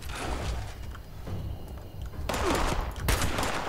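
Rapid gunfire from enemies in the Fallout 76 video game, with dense overlapping bursts and sharp cracks close by across the whole stretch.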